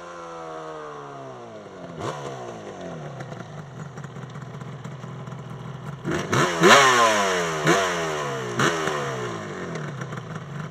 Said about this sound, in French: un copain qui vient avec une Yamaha 350 RDLC